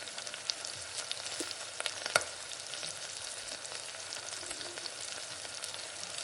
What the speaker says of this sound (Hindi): ऐसे ही अलट पलट के हमने तकरीबन 15 से 20 मिनट लो फ्लेम पे इसको फ्राई करना है